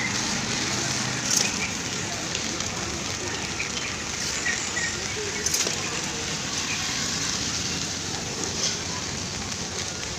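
Steady rain falls over a home garden during an amaranth leaf harvest, a constant even hiss throughout with a few faint bird calls in the background.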